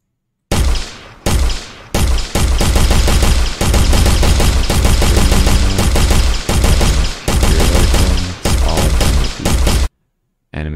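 Rapid bursts of rifle fire from an Unreal Engine 4 first-person game, loud and close, with several sustained automatic volleys separated by short silent gaps.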